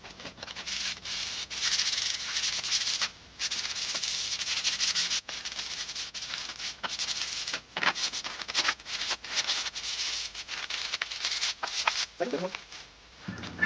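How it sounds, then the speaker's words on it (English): Light hand sanding of a primed model spaceship with 220-grit paper, close-up strokes of dry scratchy rubbing in rapid, slightly uneven rhythm, nearly continuous with brief pauses. "we're gonna go ahead and do some light sanding and apply, and light sanding with that 220 cement paper"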